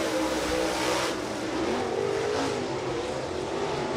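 A modified race car on the County Line Raceway track, engine revving and droning loudly and continuously, accelerating and surging as it heads out onto the track, with no voices.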